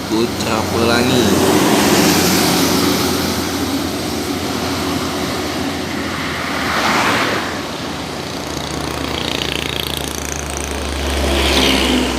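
A Putra Pelangi bus drives along the Trans-Sumatra highway, its loud engine roaring close by and swelling and easing as it passes, over a constant low rumble of road noise.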